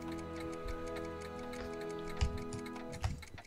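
Steady, even ticking from several clocks in the Back to the Future video game, with a soft mechanical rhythm over a sustained low hum and two louder thuds near the end.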